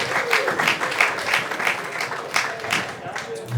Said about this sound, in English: Shout out to the AV team, they're always here on time. Give a round of applause.